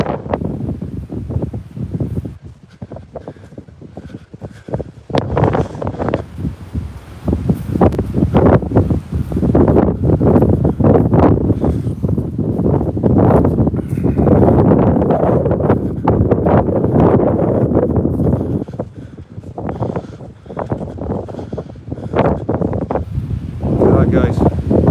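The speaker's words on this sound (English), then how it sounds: "Wind is unbelievable." Strong wind gusts roaring across open hillside farm terraces, a loud, continuous buffeting rush that swells and stays heavy through most of the stretch, with brief quieter lulls near the start and end.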